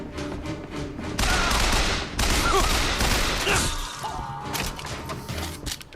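Bioshock Infinite gunfire, dense bursts of shots and smashing impacts in rapid succession amid chaotic combat noise, loud and continuous.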